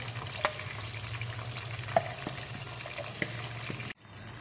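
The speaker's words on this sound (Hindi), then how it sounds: "देखें हम चिकन को खूब तेज़ आंच पे भून रहे हैं।" Marinated chicken frying on a high flame in a pan, a steady soft sizzle with a few sharp clicks of a spoon stirring, fairly quiet, cutting off abruptly at the end.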